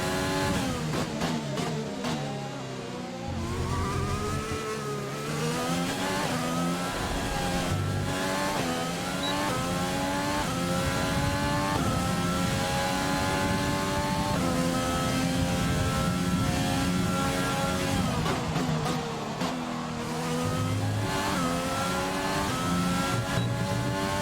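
A Formula 1 car engine in the F1 2020 racing game screams at high revs through practice laps at the Australian Grand Prix, rising and falling with gear shifts and downshifts, loud and continuous with no talk.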